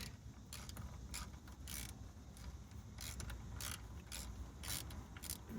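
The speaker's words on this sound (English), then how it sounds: "I can slide my socket right onto there now and be able to take that off" A socket wrench ratchets on a vehicle brake line fitting, giving repeated short clicking bursts in an uneven rhythm over a quiet garage background, close to the microphone.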